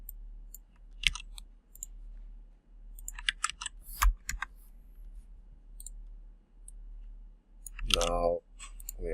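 Keystrokes on a computer keyboard as commands are entered, scattered clicks and short bursts of taps at close range over a faint steady hum, with a brief voice near the end.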